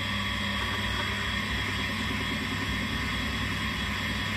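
A distributor spins on a powered test machine, giving a steady, unbroken mechanical whir and hum with a high whine that holds at an even level throughout.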